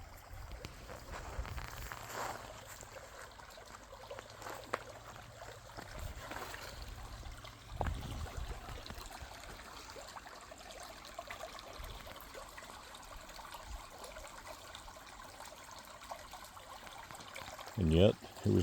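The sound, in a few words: water running through a creek bed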